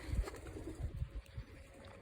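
Soft, low cooing of pigeons, faint and murmuring in short repeated bursts, with no one speaking.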